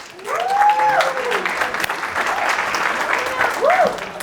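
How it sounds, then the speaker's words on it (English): Audience round of applause for a volunteer named Helena, steady clapping throughout with a host's voice rising over it at the start and again near the end. "everybody, round of applause for Helena"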